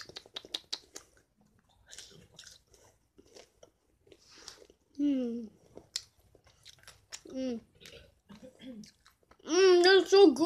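Someone chews and bites french fries from a fast-food meal, crunchy mouth sounds close up, with brief bursts of speech and babble mixed in among the chewing.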